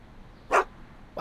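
A single short bark from Einstein, Doc's dog in the Back to the Future video game, one brief mid-loud yelp alone against quiet background.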